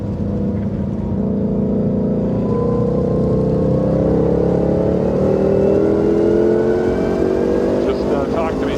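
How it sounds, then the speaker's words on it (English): A 2020 Shelby GT500 is driven hard around a race track, its loud, steady engine roar climbing gradually in pitch from inside the car while voices talk over it. "I'll start driving a little harder, and you tell me how you're doing."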